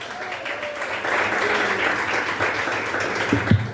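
A church congregation breaks into applause, a dense, steady clapping that swells after a second and holds loud and close, with voices mixed in.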